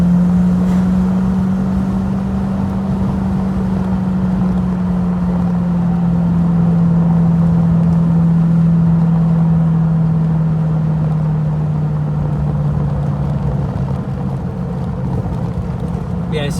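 A V8 car engine rumbles steadily while cruising along winding roads in the Derbyshire Peak District, a continuous loud low drone with a slowly falling pitch and no speech over it.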